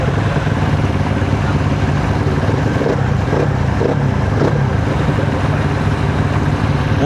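A Kove 450R motorcycle engine runs loud and close, a steady throaty rumble with a few slight surges in the middle, no talking over it.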